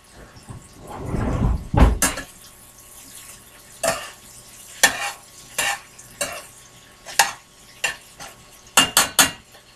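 A metal utensil scrapes and clanks against a metal, non-non-stick pan in a series of sharp, loud, irregular strikes, with a rougher stretch of scraping and sizzle early on.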